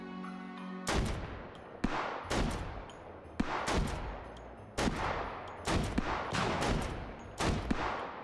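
Rapid gunshots ring out in the VR shooter H3 VR, a string of sharp, loud bursts fired in quick succession with short pauses between volleys, no voices present.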